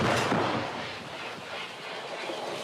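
A weapon fires on command at a Russian-occupied road during the war, giving one loud broadband blast at the very start that decays into a long, rumbling tail with no voices.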